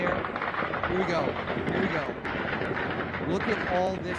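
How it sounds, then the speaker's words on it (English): Dense, continuous gunfire and interceptor fire crackle through a drone attack, with repeated sharp bursts and distant booms over a steady rumble, and voices talking underneath throughout. "Look at all this gunfire."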